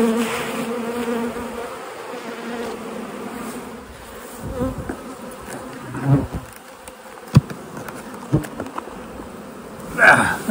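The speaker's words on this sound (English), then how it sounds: "Box of bees." A steady hum of many bees buzzing close up in a hive box, punctuated by several sharp knocks and clunks of handling near the end.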